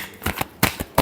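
Tarot cards being shuffled make a quick run of crisp riffling flicks, four or five short bursts within a second, close and clear with no speech.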